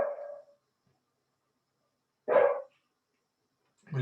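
A dog with separation anxiety, left alone, barks at a window in a few short, sharp bursts separated by pauses of silence, fairly close and clear.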